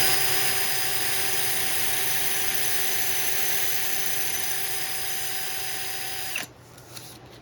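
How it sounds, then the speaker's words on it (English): A homemade centrifugal sander spins at a steady high-pitched whine, loud and close, for several seconds before it abruptly shuts off and quiet follows. "So you're just making like a centrifugal sander, I guess is what you'd call it."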